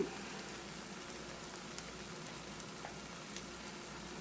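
Cheese melting in a hot skillet with pepper and salt, giving a steady, even sizzle and fry that runs throughout, close and moderate in volume with faint pops, no talking.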